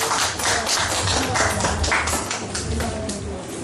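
A church congregation at a Korean missionary association's inaugural worship service applauding as a pastor comes forward, steady continuous clapping from a crowd filling the room.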